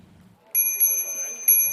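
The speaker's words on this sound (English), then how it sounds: "A bell never sounded so sweet, but for these bikers" A bright, ringing bicycle bell chimes with a sustained metallic tone, then is struck again twice in quick succession, close and clear over faint background murmur.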